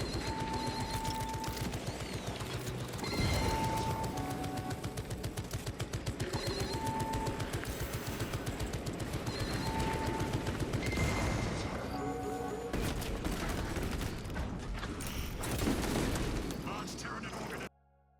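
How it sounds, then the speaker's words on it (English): Tarantula sentry guns in the Space Marine video game fire in rapid, dense bursts, with heavy booming impacts, layered explosions and game effects, loud and continuous until an abrupt cutoff at the end. "Let's take a look at the tarantula sentry guns and the gameplay they have surrounding that right here."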